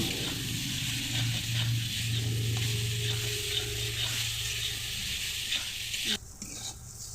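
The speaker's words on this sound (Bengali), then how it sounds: "চিকেনটা দিয়ে ভালোভাবে কষে নিতে হবে" Small chicken pieces sauté in hot oil as a spatula stirs them, a constant close sizzle broken by intermittent scraping strokes against the pan, with a sharper clatter near the end.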